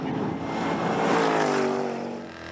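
Jaguar XE SV Project 8 accelerating hard on a race track, a loud engine note rising in pitch through the revs with a strong harmonic wail, swelling then easing slightly at the end, no speech over it.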